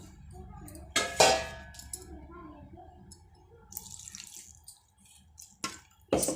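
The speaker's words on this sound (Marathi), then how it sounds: "थोडंसं पाणी घालायचं," Water is poured into a mixer jar holding spinach for papad, with short splashy bursts and light clinks of the jar and utensils in a quiet kitchen.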